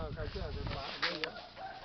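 Red junglefowl and chickens at a forest temple in Thailand give faint, distant clucking calls amid quiet outdoor ambience, with people talking nearby.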